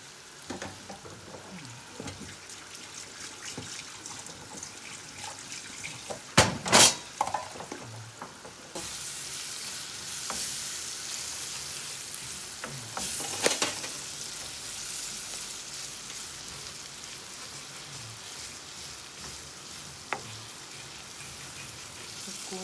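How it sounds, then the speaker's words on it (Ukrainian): Dumplings sizzle steadily in a frying pan, with a few sharp clatters of a utensil stirring partway through. "Поки воно буде смажитися"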